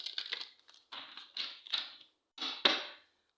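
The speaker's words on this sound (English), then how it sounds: "Let's give it one more shuffle here, beautiful souls." A deck of tarot cards is shuffled close up in several quick riffling bursts, crisp papery rattles separated by short pauses, with no talking.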